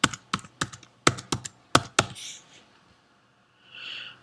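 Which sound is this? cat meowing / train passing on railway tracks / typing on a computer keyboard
typing on a computer keyboard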